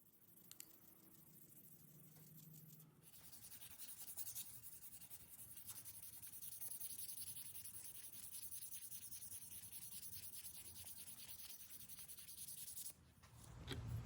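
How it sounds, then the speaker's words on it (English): Steady, continuous scratchy rasping of fine-grit sandpaper rubbed by hand back and forth over a wooden knife handle, close and fairly loud, running almost the whole time without a pause. "Here I'm just hand sanding the wood all the way from 320 grit to 2000 grit."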